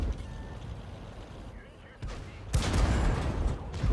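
A Type 64 light tank fights in World of Tanks, ending in a burst of loud, booming cannon fire mixed with rumbling impacts after a quieter stretch of engine and ambient battle noise.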